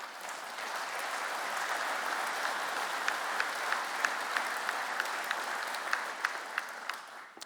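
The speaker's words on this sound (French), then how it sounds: "vous pouvez les applaudir" An audience at a French hunters' association general assembly applauds, a steady wash of many hands clapping in a large room, fairly distant and even, with a few sharper claps standing out.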